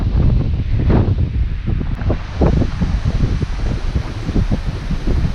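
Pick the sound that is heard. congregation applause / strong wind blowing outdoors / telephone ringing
strong wind blowing outdoors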